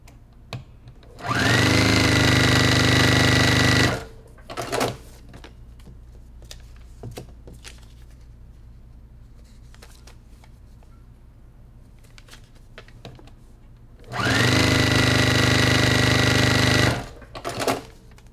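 A sewing machine runs in two long continuous bursts while stitching a scrappy mountain-style tablerunner, loud and steady, separated by a quieter stretch of small handling noises.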